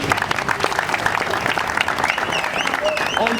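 Dense, steady applause from a rally crowd cheering a politician named Félix, mixed with shouts and whistles, sustained loudly throughout with no break.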